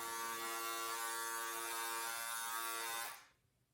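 A Panasonic electric razor buzzes steadily and close while shaving, a dense tonal buzz that holds even for about three seconds and then cuts off abruptly into near silence.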